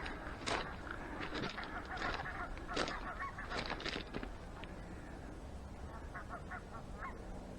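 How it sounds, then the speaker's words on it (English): Agitated geese honk across open ground on the far side, a flurry of loud, overlapping calls early on that thins to scattered, quieter honks later. "You can hear the geese on the far side over there getting a bit agitated because they've seen us and the dogs."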